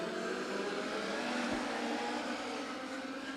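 Legend cars roar off the start at Beckley Motor Speedway, a dense, steady wall of engine noise from a packed field that holds loud and unbroken throughout.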